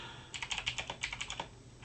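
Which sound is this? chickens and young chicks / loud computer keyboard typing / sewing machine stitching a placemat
loud computer keyboard typing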